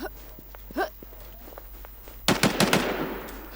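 Gunfire from the video game WarZ: a few quiet shots early, then a rapid, louder burst of several shots near the end, with faint footsteps and brief voice sounds around them.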